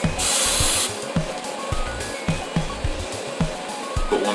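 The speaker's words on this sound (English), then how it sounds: "spray a little bit more." Super 77 spray adhesive sprays in a steady hissing burst for under a second, followed by quieter handling and a few soft thumps and taps as pieces of a foam Amtgard flail are assembled.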